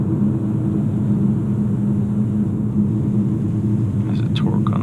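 A 2017 Kia Soul's engine in sport mode, heard from inside the cabin as a steady, droning low hum that holds even throughout, with a faint higher whine near the end.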